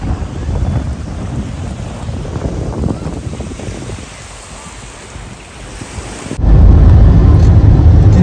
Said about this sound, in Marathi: पाणी बघा ना जसं काय समुद्राच्या लाटा येतात.